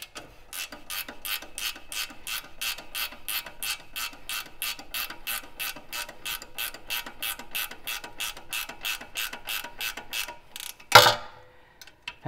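A ratchet wrench snugging a bolt during CV axle replacement on a 100 Series Land Cruiser, a long run of steady, evenly spaced close clicks, ending in a heavier clunk and rattle.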